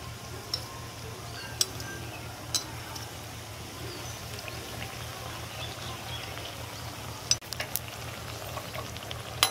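Golgappa puris made of semolina and flour fry in hot oil, a quiet steady sizzle with occasional small ticks and clinks from the pan, no voices.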